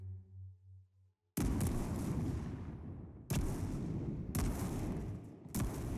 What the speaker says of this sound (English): Oh, I flashbang myself.